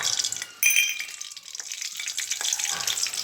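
Mustard seeds splutter and crackle in hot oil in a kadai, a loud bright sizzle with scattered sharp pops that continues throughout at close range.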